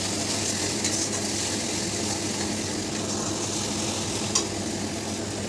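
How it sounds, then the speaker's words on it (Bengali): Steady, continuous sizzling of onion and spice paste frying in a pan for biryani, fairly constant throughout with a faint clink near the end. "একটু ভাজা ভাজা করে নেবো মশলাটা"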